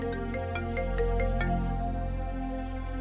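A phone rings with a short run of regular bright electronic beeps over a steady, loud tonal music bed, then the ringing stops while the music carries on.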